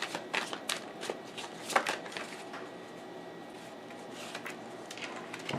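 Tarot deck being shuffled by hand, a rapid run of crisp riffling flicks and soft slaps in the first two seconds, then quieter rustling and handling, close and faint.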